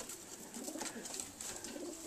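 Pigeons coo softly in a loft, a faint, continuous murmur of low calls with no talking.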